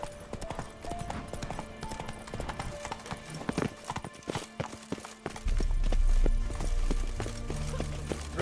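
Horse hooves gallop in The Witcher 3, a quick, continuous clip-clop at close range with game music and ambience layered underneath and a louder low rumble joining toward the end.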